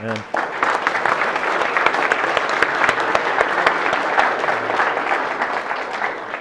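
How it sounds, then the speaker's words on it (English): Steady, dense applause from an audience at a political speech fills the whole stretch, loud and sustained without letting up. "Let's give them a round of applause"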